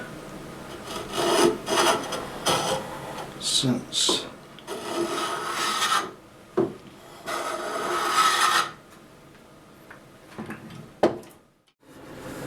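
Rough rasping and filing strokes on the wooden stock of a US Springfield Trapdoor 45/70 rifle, repeated in uneven bursts with short pauses, close up, with a brief spoken word.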